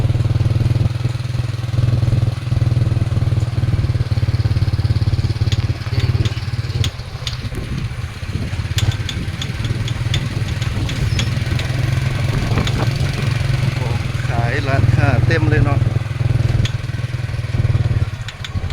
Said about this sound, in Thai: นั่งรถเครื่องขับมาเมืองสุกุมาสปปลาว